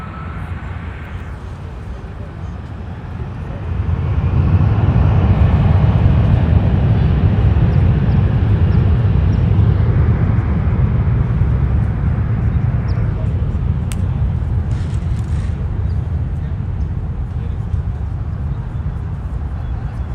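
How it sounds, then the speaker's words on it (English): Delta Airlines Embraer 175 jet bound for Bozeman at Los Angeles International Airport, a loud sustained engine roar that swells around five seconds and holds steady, heard from a distance with a voice talking over it. "That Delta going to Bozeman, an Embraer 175, Delta Airlines flight"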